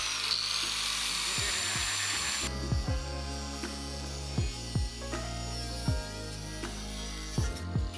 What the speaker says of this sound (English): since they're massive and these are the NA6 knuckles, we have to cut the dust shield off